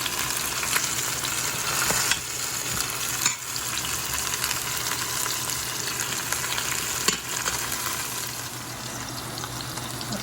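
A pot roast sears in a hot pot, giving a loud, continuous close-up sizzle and spatter that holds steady for the whole stretch with no voices.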